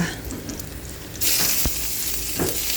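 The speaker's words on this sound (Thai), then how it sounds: "ใส่เนื้อหมูลงไปเสร็จแล้วก็ผัดให้สุกนะคะทุกคนค่ะ" Pork hits a hot pan with garlic and sizzles loudly, a steady fry that surges partway through, with brief scraping stirs close by.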